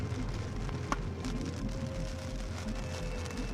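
Heavy rain falling steadily during a tornado, a dense, even hiss on surfaces with a faint low rumble underneath and no voices.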